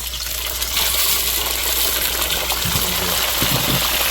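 Onions hitting a hot pan for Uzbek plov set up a loud, steady sizzle that holds throughout, with a few faint clinks near the end.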